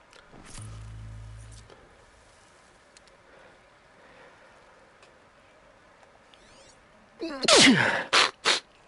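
A sharp sneeze bursts out near the end during Horizon Zero Dawn gameplay, loud against quiet game ambience, with a short low tone and faint ticks earlier.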